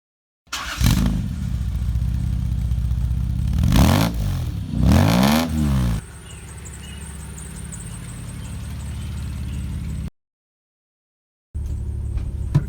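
A 2JZ-swapped AMC Rambler with tri-power carbs roars along on a road test, its engine revving hard in loud surges before settling into a steady drone, then cutting out briefly before resuming.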